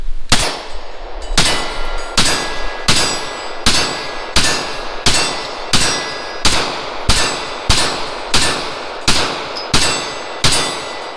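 Pistol shots at an outdoor shooting range, fired from a Glock fitted with an Apex action enhancement trigger kit, each one followed by a bright metallic ring off a steel target. About fourteen loud, evenly spaced shots and clangs run steadily, with no talking.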